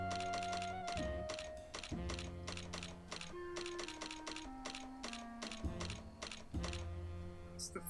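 A ticket printer machine in the video game Grim Fandango runs loudly and continuously, with dense mechanical clacking, gear-like whirring and repeated thunks, and pitch steps shifting through a rhythmic printing cycle.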